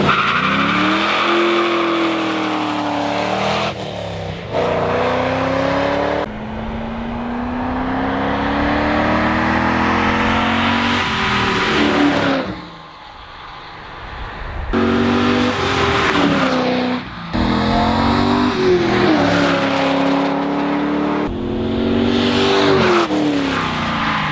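An LS-swapped BMW E30 makes repeated fly-bys. The V8 roar swells and rises in pitch on each pass, with tire squeal in places. A short quieter gap sits between the loud passes.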